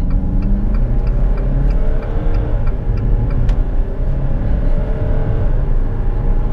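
A 2017 Jeep Compass Longitude diesel 4x4 accelerates hard with a steady, loud low engine drone and rising harmonics, a brief dip near two seconds marking a gear change.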